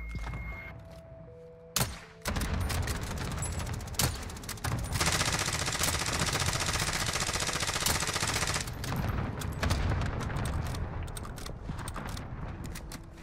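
Rapid bursts of automatic gunfire and sniper shots in the battle royale game Warzone, Rebirth map, a dense sustained fusillade filling most of the stretch with sharp isolated cracks before and after.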